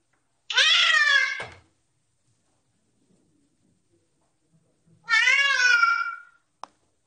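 Two drawn-out cat meows played back from a cat-translator phone app, each lasting about a second and separated by several seconds of near silence, followed by a brief soft knock at the end.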